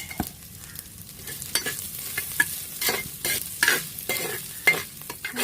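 Onions with a pinch of salt stirred and frying in a pan for fish curry, a steady soft sizzle broken by repeated scraping strokes of a spoon, close and moderately loud, with no talking.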